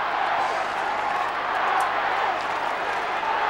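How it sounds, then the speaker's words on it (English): Steady, dense crowd roar from a big stadium audience at Subiaco Oval during an AFL match, Carlton against Fremantle in 2001, a continuous broad wash of noise without clear peaks. "this crowd getting very involved now"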